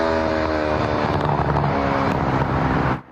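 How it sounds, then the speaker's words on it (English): A loud car with a modified, rumbling muffler roars past close by on a Bay Ridge neighborhood street, its engine drone steady before cutting off abruptly at the end. "motorcycles and souped-up cars with modified mufflers cruising through the neighborhood"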